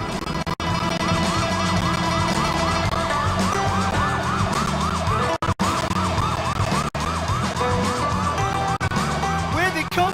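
A police siren wails in the Sleeping Dogs video game, loud and close, with a steady repeating rising-and-falling tone over engine noise and music that drops out for short gaps. People talk over it.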